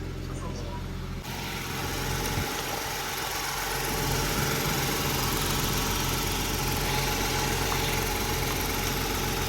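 A car engine idles after being started, a steady mid-pitched hum with faint vibration that rises slightly in loudness after the first seconds, as voices talk nearby.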